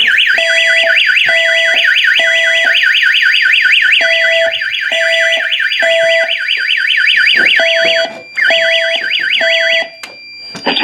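A building fire alarm system triggered from a pull station sounds a loud, rapidly sweeping electronic whoop paired with a repeating tri-pulse horn pattern, broken by a brief dropout near the end.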